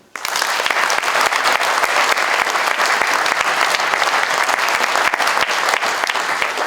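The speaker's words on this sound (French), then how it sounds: "On peut l'applaudir." An audience at a town hall New Year ceremony breaks into sustained, loud applause that starts abruptly and holds steady with dense clapping throughout, a few voices faintly mixed in.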